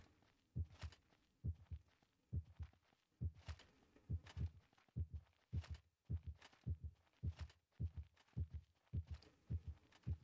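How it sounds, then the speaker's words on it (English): Heartbeat sound effect from the video game Shadow of Rome, a steady, evenly spaced double thump repeating about once a second, low and close, playing alone with no talk. "Why is my heart beating?"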